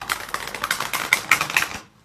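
Tarot cards riffled and shuffled in a burst of quick, papery clicks and flutters lasting under two seconds, close and fairly loud, then stopping abruptly into silence.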